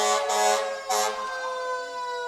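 Fire department fire trucks sound their sirens in a town parade, a loud wailing tone rising and falling against a backdrop of horn-like blasts, with no talking.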